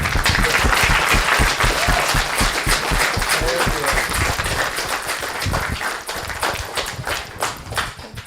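Loud, close applause fills a city council meeting chamber, dense clapping that continues for several seconds and then thins and tapers off toward the end.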